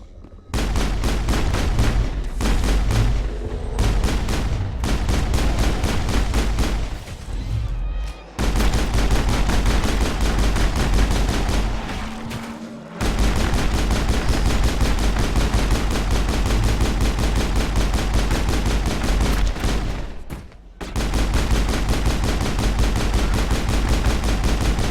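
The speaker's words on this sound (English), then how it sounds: "Faster shooting gun it is then." Rapid gunfire from a faster-shooting gun in the space game Mass Effect rattles in long, loud, continuous bursts, broken by a few brief pauses.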